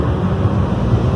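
Go-kart engines racing at the Interlagos circuit in São Paulo, heard from outside as a steady, distant low engine drone with wind-like rumble and no clear individual passes.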